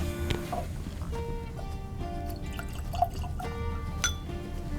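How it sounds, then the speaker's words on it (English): Bulleit bourbon whiskey pours into a glass with a soft liquid trickle and gurgle, and a few light clinks against the glass, over a quiet low rumble. "All right, we got our glass. Let's get some poured and get into it."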